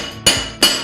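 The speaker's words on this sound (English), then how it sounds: "You can do this with a chipping hammer" Two sharp metallic knocks of a chipping hammer striking flux residue off an arc weld, close and distinct with a short ring after each hit.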